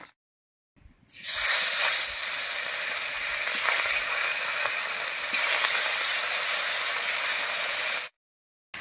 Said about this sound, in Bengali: একইভাবে সবগুলো মাছ ভেজে নেব।